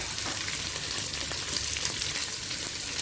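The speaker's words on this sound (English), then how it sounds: "I'm just going to fry the onion till it gets golden brown color" Onions, about 250 grams, sizzling in hot oil in a pan while frying toward golden brown for a chicken biryani, a steady dense crackle that runs unbroken and fairly loud.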